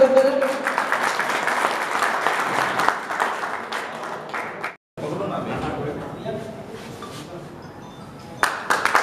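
An audience at an oath-taking ceremony of a cable operators' association in Udaipur breaks into sustained applause, dense and steady clapping that dips briefly, then resumes with chatter mixed in.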